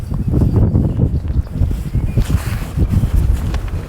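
Wind buffeting a microphone outdoors at Mount Herzl in Jerusalem, a loud, continuous low rumble with gusty fluctuations throughout and no talk.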